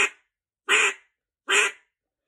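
Three separate quacks from a Rolling Thunder duck call, blown alone and close, evenly spaced with short silent gaps between them.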